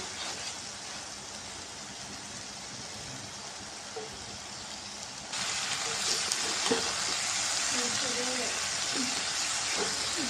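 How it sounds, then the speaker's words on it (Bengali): Small fish frying in a pan with potato and tomato, a steady broadband sizzle that grows denser and louder halfway through, with light stirring clinks over it. "গুঁড়ো মাছটা একদম ভাজা ভাজা হয়ে গেছে"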